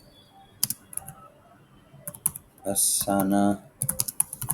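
Keys clatter on a computer keyboard while a name is entered into an online form, coming in short scattered bursts with one denser run of typing near the middle, close and moderately loud, and a voice speaks briefly around them.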